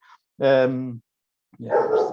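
Dog barking indoors: two short, loud barks separated by a pause, the first tonal and sustained, the second rougher.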